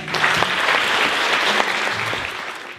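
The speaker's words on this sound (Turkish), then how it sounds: "Alkışlarınızla." A concert audience breaks into brisk applause during a flower presentation, many hands clapping together in a dense, even patter for a few seconds.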